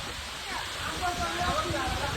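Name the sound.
heavy rain pouring down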